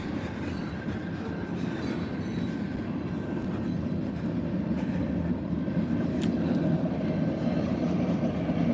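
A train rumbles past at steady volume, a dense low roar with faint metallic rattles and a brief squeal, no voices.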